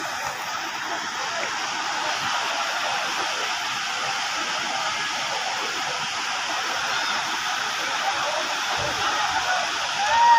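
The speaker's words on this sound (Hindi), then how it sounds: "पहाड़ियों से घिरा हुआ ये झरना" A constant roaring wash of a waterfall surrounded by hills in Jhalawar, India, steady and full, with no pauses and faint background activity of visitors beneath it.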